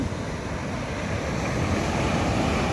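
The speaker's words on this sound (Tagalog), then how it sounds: "At ang malalaki naman ang alon eh." Loud, continuous ocean surf roars with waves crashing steadily, mixed with wind buffeting the microphone.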